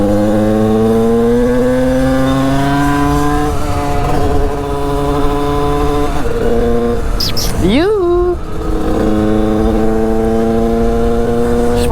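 A tuned 50cc moped engine revving while riding: a loud, buzzy two-stroke drone whose pitch climbs and holds, dips and surges sharply as the throttle is blipped, then settles back into a steady high whine.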